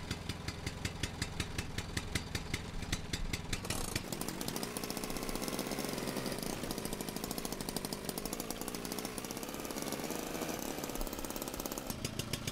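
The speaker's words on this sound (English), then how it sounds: "I think the engine's just gonna die." A struggling car engine in the video game Jalopy runs rough and loud, a harsh rapid chugging that sputters unevenly before settling into a dense, rattling drone for the rest of the stretch.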